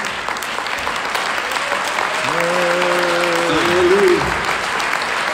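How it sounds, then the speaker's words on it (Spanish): A church congregation gives a loud, sustained round of applause, dense and even throughout, while a voice calls out a sung exclamation over the clapping. "Podemos darle un aplauso al Señor."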